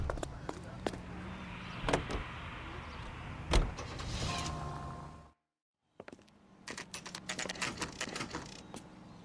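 A car in the video game LA Noire, with engine hum, door and interior clunks and clicks, a brief silent gap, then more scattered mechanical knocks and rattles at low volume.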